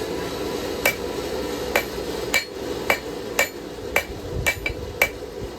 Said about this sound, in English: Now, try to stay off the tip. We're hitting behind the tip.